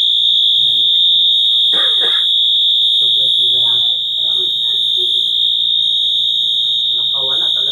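A loud, continuous electronic alarm tone sounds without a break while people talk over it in short bursts.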